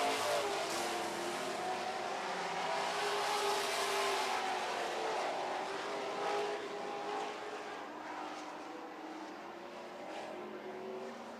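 Super stock race cars running on an oval track during a heat race, a steady roar of engines close by and holding constant over the stretch with slight swells as cars pass, with no talk.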